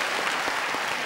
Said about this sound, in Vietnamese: Nếu mà vỗ tay thì vỗ tay lớn lên chứ vỗ tay nhỏ xíu trời